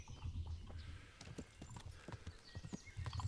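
Horse hooves clip-clopping in the medieval video game Kingdom Come: Deliverance, a steady run of close, distinct hoofbeats at a trotting rhythm, fairly quiet with no talk over them.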